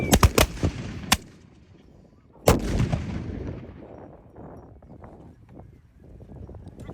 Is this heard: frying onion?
no